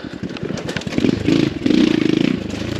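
A dual sport motorcycle engine, an X Pro Storm 150 DLX at quarter throttle, chugs up close climbing a tight trail, rising into a steady throaty pull, with light clatter from the trail.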